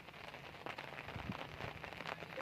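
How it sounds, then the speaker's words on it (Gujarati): Light, fine rain falling steadily outdoors over sown farm fields after a heavy downpour, a soft continuous patter of drops with a few closer taps, no voices. "હજી વરસાદ ઝીણો ઝીણો ચાલુ જ છે"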